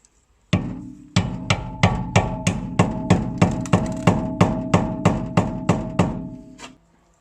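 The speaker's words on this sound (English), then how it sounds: "you can try to hammer it with a hammer like this" A soft hammer strikes a car's metal sway bar link about fifteen times in a steady, even rhythm, each blow sharp and close, with no talking.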